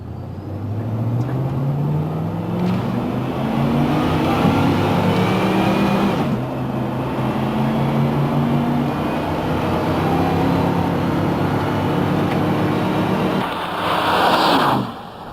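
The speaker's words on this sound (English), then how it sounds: "Let's try some upshifts at 3/4 throttle and feel the shifts." A vehicle fitted with a Ford E4OD automatic transmission accelerates at three-quarter throttle, engine note climbing steadily and dropping back as it upshifts through the gears, loud and close throughout with no talking.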